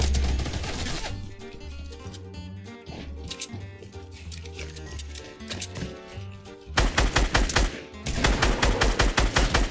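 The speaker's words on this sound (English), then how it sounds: "What is he shooting at?" Rapid gunfire crackles through a Fortnite Battle Royale match, with quick clustered shots at the start, a lull under steady game music, then dense loud bursts near the end.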